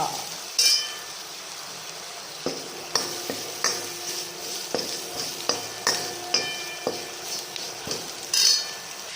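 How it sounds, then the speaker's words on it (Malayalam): Tomatoes sautéing in a pan for a jackfruit curry, a steady sizzle and fry under repeated scraping and clinking of a spoon against the pan, close and continuous. "ഫ്രൈ ആയതിനു ശേഷം ഇതിലേക്ക് തക്കാളി ഇട്ട് വഴറ്റുക"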